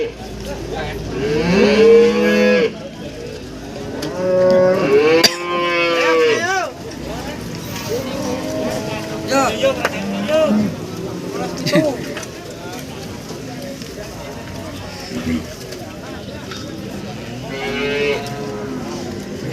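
Several banteng cattle moo in long, drawn-out calls, some loud and close, repeated across the recording amid a busy background of people talking at a crowded cattle market.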